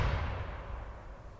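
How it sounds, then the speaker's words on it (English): A deep, booming low gun-thump rumble that starts strong and slowly fades into a long, dark tail, heavy and close with no other sounds. "we're really looking for a sound with a lot of low rumbling and the real ballsy sound"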